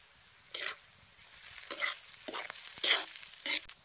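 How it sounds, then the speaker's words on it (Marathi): Tomato, chili and onion fry in hot oil with a steady sizzle, broken by several loud scraping stirs of a spoon through the pan. "आता हे तेलात टमाटो मिरची कांदा कसा भाजलाय बघा चांगला."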